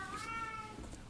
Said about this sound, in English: I hear a potty cat.